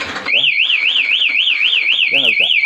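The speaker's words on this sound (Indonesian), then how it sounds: "Kalau dibobol dia akan bunyi keras." A loud aftermarket one-way alarm on a Yamaha R15 v3 motorcycle wails with a rapid warbling siren tone, continuous and close, with people talking faintly beneath it.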